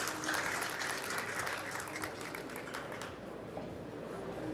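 An arena crowd claps for a hometown player at a Las Vegas tournament, a faint, distant wash of applause that thins out partway through.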